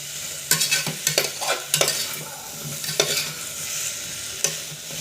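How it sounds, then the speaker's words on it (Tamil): Mixed vegetables for vegetable rice sauté in a pan, a constant close sizzle punctuated by repeated sharp scrapes and knocks of a stirring spoon against the metal. "இது கொஞ்ச நேரம் அப்படியே நல்லா வதங்கட்டும்"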